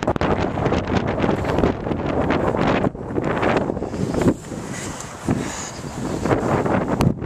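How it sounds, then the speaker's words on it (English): Strong cold wind blows outdoors in Chicago, loud gusty roaring and buffeting against the microphone that surges and dips for several seconds with no talk. "It's way too cold, and there's way too much wind."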